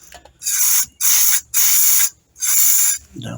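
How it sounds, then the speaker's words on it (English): Four long, loud bursts of brake cleaner spray into the crankshaft oilways of a Triumph Trident T150V engine, each about half a second, hissing close by with short pauses between them. "just giving it a really good spray"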